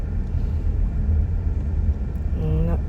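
Heavy lorries and other road traffic in Ulu Tiram, Johor, on the road from Kota Tinggi to Johor Bahru, rumble steadily up close, with a rising engine whine near the end.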